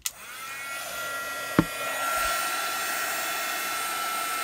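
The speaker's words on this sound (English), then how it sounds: "And I have my heat gun handy." A handheld heat gun blows hot air in a steady, loud whoosh after a sharp click as it switches on, with one brief knock partway through and the airflow running on without a break.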